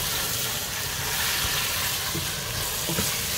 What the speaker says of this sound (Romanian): Le mai călim o dată.